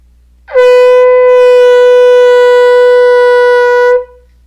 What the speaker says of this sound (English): we should hear the sound of the big shofar.